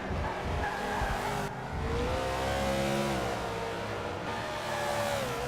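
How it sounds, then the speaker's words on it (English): GT race car lapping the Circuit de Catalunya during a PTG GT Cup race, a loud continuous engine roar rising and dropping in pitch through gear changes and braking for a chicane, with brief tire scrub. "we're following Brains heading into the chicane"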